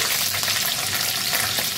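Mustard and cumin seeds sizzle and crackle in hot oil, a dense, close spattering hiss that stays steady from start to end.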